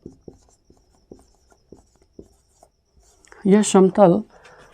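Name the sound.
writing with a pen while solving a maths problem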